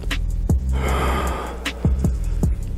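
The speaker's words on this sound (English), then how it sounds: "Going off to the other side, deep breath in," A single long, deep inhalation taken slowly during a ribcage breathing exercise, heard close and fairly loud, framed by a few short thumps and no speech.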